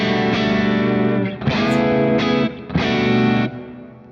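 James Tyler Dann Huff electric guitar with its pickups in series, played through a distorted, effected tone; several hard-hit chords ring loud and sustain with sharp attacks, then fade at the end, with no talking.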